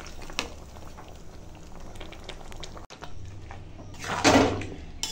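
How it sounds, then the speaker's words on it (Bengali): Lentil dal with pumpkin greens bubbling in a pot on a stove, a soft steady simmer with a brief clatter near the start and a louder hiss and burble swelling toward the end. "এখন এই ডালের সঙ্গে এই কুমড়োর শাকটা রান্না করে নেব।"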